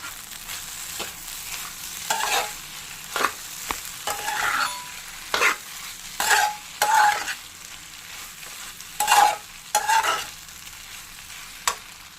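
Egg curry mixture for a simple omelette curry frying and being stirred in a pan, with intermittent scraping strokes over a soft sizzle, fairly close.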